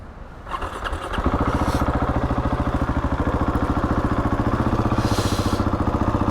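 A Husqvarna 701 Enduro single-cylinder motorcycle engine rumbles close by, then rises after about a second into a steady, fast, even idle thump that carries on to the end, with no voices.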